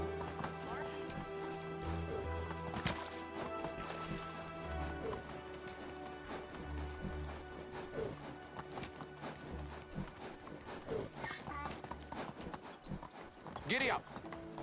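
Steady hoof clip-clops from a horse being ridden in the game Medieval Dynasty, a rhythmic trot that continues throughout under a faint background hum.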